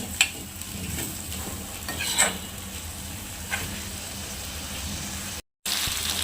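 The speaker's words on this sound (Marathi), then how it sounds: "सर्व मसाले त्याला लागतील असं आपण मिक्स करून घेऊया" Brain masala (bheja) sizzling in a pan as it is gently stirred with spices, a steady frying hiss broken by a few sharp scrapes of the spoon, close and with no voices.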